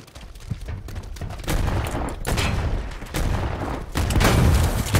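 Sustained gunfire from a firefight in Predator Hunting Grounds, rapid overlapping shots and automatic bursts swelling in loudness, close and heavy, with brief lulls between volleys.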